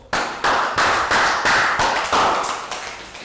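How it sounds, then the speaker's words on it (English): A burst of clapping from a Year 3 school class, loud and close, with several sharp rhythmic surges that gradually fade toward the end. "Round of applause."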